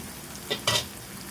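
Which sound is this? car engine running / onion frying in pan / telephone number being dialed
onion frying in pan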